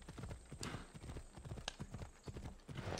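Horse hooves clip-clop in an Assassin's Creed game, a quick, continuous, close trotting rhythm of hollow knocks with faint background sound.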